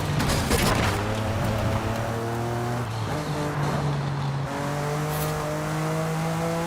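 Engine of a Hot Wheels-licensed car in Forza Horizon 5, loud and continuous, revving up through repeated gear shifts with rising pitch steps, tire noise underneath.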